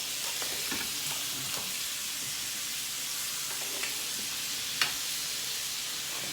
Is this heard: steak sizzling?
yes